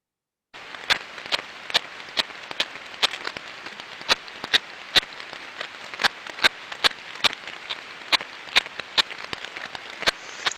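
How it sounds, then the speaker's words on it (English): Repetitive low-level knocking picked up by ultrasound on a six-month-old machine asset, heard as sharp, evenly spaced clicks, roughly two per second, over a steady hiss, with no voices. "it was a very low level knocking sound"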